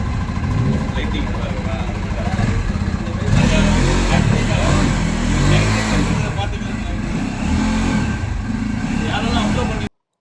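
A new 2024 Bajaj Pulsar N250 motorcycle engine runs loud and close, a steady throaty drone that swells slightly mid-way, with voices talking over it until it cuts off abruptly.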